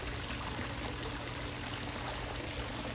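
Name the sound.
water running from a small pool waterfall feature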